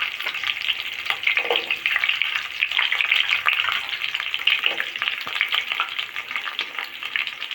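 Whole small onions frying in hot oil with curry leaves for a tamarind curry, a steady close sizzle with occasional stirring.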